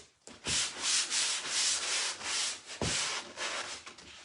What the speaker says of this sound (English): Right, I'm back to our sanding again.